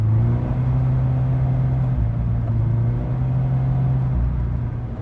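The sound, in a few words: Subaru BRZ TS car engine revving on test drive, clutch slipping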